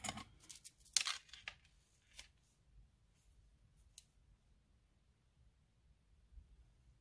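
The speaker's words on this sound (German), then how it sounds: "Wenn ich hier mein, ja, mein Klebeband quasi dran mache." Adhesive tape is pulled and pressed down during an unboxing, giving a quick burst of tearing and crinkling up close, then a few faint separate clicks in a quiet room.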